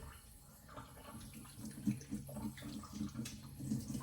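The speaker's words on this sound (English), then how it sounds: "I'm going to wash my hands" Tap water runs into a kitchen sink while hands are washed after chopping onion for meatloaf, a steady close splash with soft uneven bursts as hands move through the stream, no talking.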